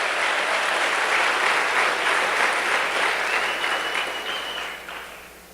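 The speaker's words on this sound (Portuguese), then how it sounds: "Pode dar uma forte salva de palmas para Jesus." A church congregation claps in a dense, sustained round of applause, loud and close at first, then tapering off toward the end with no voices over it.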